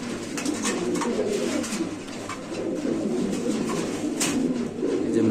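A male pigeon coos among pigeon pairs offered for sale, with soft, repeated throaty cooing under steady background noise and a few brief rustles, moderately close.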